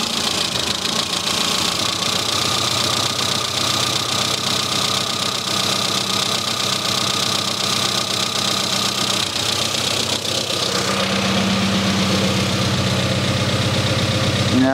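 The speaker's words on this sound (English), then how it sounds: "you can even hear on the engine, it doesn't run smoothly" A classic car engine running lean idles unevenly, with a steady drone and an irregular, slightly lumpy rumble beneath it, close up and continuous.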